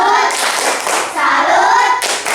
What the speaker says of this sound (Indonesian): beri tepuk salut untuk kelompok 4